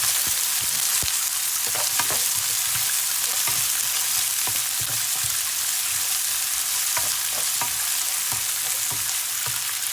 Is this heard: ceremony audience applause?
no